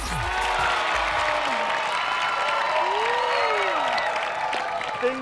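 Studio audience applause and light cheering on a Thai comedy stage show after a jump onto a padded stage, a steady wash of clapping mixed with a sustained voice or musical tones.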